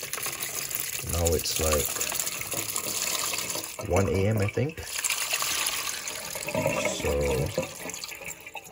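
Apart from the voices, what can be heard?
water being poured out for pet roaches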